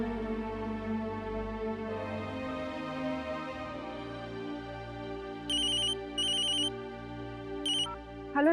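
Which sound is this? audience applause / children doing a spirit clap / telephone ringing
telephone ringing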